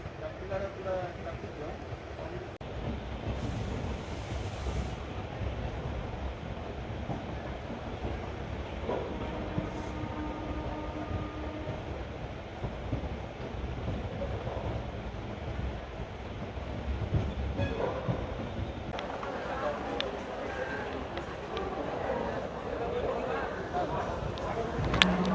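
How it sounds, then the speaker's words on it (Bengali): Bhubaneswar–Howrah Jan Shatabdi Express running into Howrah, a steady rumble of the moving train heard from on board with faint wheel clatter and brief tonal squeals, while voices talk over it throughout. "এখন আমাদের ট্রেন এসে পৌঁছেছে তার গন্তব্য স্টেশন হাওড়া"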